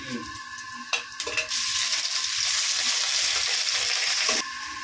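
Ginger and garlic sizzle steadily in hot oil in a home kitchen pan, a loud continuous frying hiss that starts after a few brief clinks and stays close and even to the end.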